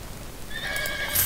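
A horse neighs in the video game Sacred, a bright whinny rising near the end over a soft steady background, close and fairly loud.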